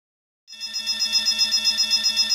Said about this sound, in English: What? An alarm?